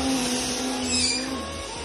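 A household vacuum cleaner runs steadily in a home playroom, with a constant droning hum and a brief shift in pitch partway through, with no talk over it.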